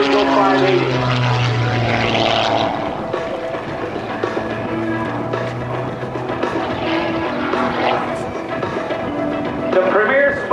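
A propeller-driven Embry-Riddle Eagle 580 aerobatic airplane tumbles at an air show, its engine droning loud and steady with shifting pitch as it maneuvers. An announcer's voice talks over the engine.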